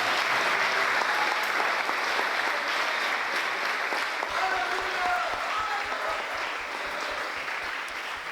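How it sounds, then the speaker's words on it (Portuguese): Congregation applauding during a church service, a sustained full burst of clapping from many hands that holds steady and fades slightly toward the end, with some voices mixed in. "um forte aplauso ao Senhor."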